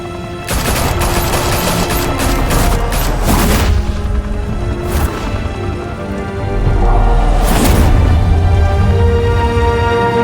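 Dense, sustained gunfire from the Batman: The Telltale Series video game, rapid overlapping shots and bursts filling the whole stretch, loud and close, swelling heavier toward the end with no talking.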